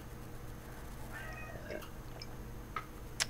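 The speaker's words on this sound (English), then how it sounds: "Oh, hello, kitty" A cat meowing softly a few times, faint and close, over a quiet low background hum.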